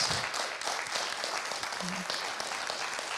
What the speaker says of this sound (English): Let's give our panel a round of applause here.